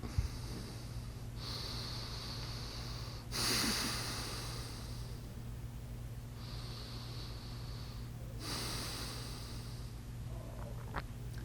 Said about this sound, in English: we're going to breathe into the stomach